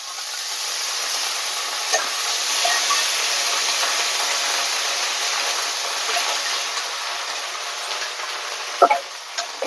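Ginger paste and spice paste frying in a pan for chicken and pilau rice, a steady close sizzle with occasional scraping stirs and light clinks, no talk.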